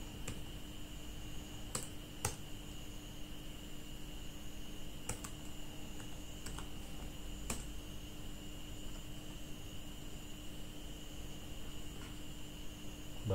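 Keys clack on an Axioo laptop keyboard as a command is typed, a sparse scatter of faint, crisp taps spread across a steady hiss of background noise.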